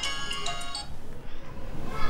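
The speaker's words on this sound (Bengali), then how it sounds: "জয়া, জয়া তোর ফোন।" A mobile phone rings indoors in a Bengali drama scene, a short melodic ringtone pattern sounding for under a second before fading to quiet room tone.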